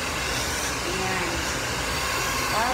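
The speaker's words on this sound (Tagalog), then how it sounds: "So ngayon, mag-blower ako po." A handheld hair dryer blows steadily on hair throughout, a loud continuous broadband whoosh that stays even from start to finish with no pauses.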